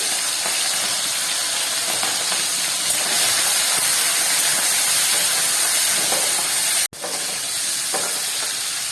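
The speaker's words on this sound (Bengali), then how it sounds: "চিংড়ি মাছগুলো ভাজা হচ্ছে, বেশি ভাজার দরকার নেই" Prawns frying in hot oil in a pan, a loud continuous hiss and crackle close by, steady throughout with one brief cutout near the end.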